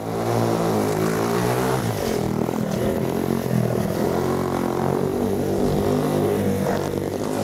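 A speedway motorcycle power slides at full throttle, its engine a loud, steady, close roar whose pitch wavers as the rider holds the slide, with no pauses.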